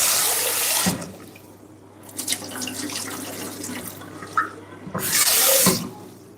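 Rice is rinsed under a running tap to wash out the starch. Water runs loudly and steadily into the sink, with splashing surges at the start and near the end and a quieter stretch in between.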